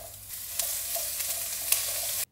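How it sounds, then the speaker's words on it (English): Onion hits heated oil in a deep pan for Japanese chicken curry, producing a bright, steady hissing sizzle with a few light stirring taps, close and alone until it cuts off. "Once it's heated up, we'll toss in the onion."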